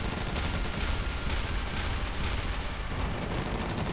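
Dense, continuous gunfire and artillery blasts from units in a Battle of the Bulge video game, a loud unbroken barrage of overlapping shots and booms lasting throughout with no talk.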